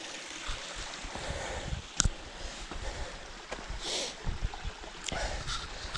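A tiny waterfall spills down toward a lake on an evening hike in Snowdonia, North Wales, giving a soft steady rush of running water mixed with wind, with a few brief knocks and footsteps.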